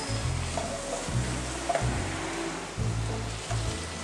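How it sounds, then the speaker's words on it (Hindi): Bite-sized beef masala boti, dressed with lemon juice, is roasted dry in a pan. It gives a steady, moderate sizzle with faint stirring scrapes over a low, rhythmic background hum. "बस अब इसकी अच्छे से भुनाई करेंगे और इसको बिल्कुल ड्राई कर लेंगे।"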